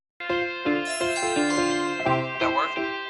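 A Ring Video Doorbell chime rings out as a bright, clear sequence of bell-like dings with ringing overtones, close and alone.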